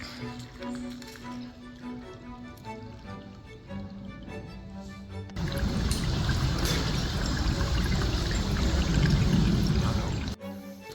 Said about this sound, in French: Un petit ruisseau à traverser.